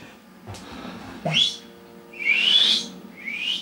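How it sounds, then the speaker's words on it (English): A person tries to whistle in a few short, breathy bursts: a quick weak attempt, then two longer airy whistled tones with pauses between, close and alone. "My whistle's not good."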